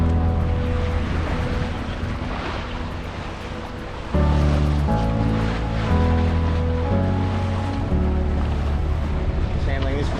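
A sailing yacht pushes through open ocean swell off the New South Wales coast near Narooma and Montague Island, steady loud wash of waves and wind with an engine-like drone and some voices underneath.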